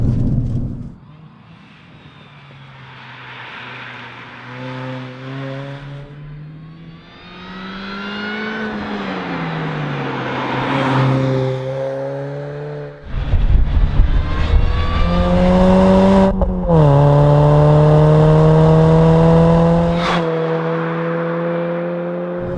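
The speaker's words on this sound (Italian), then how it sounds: "il rumore del compressore devo dire che mi piace veramente tanto" A supercharged Mini Cooper JCW R53 GP engine revs and accelerates through several gears, its tone rising and falling with a high supercharger whine riding over the exhaust, close and loud.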